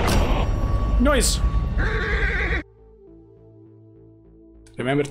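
A horse in a video game tournament match lets out a loud, rising whinny amid player chatter, then the scene drops to quiet game ambience before voices return.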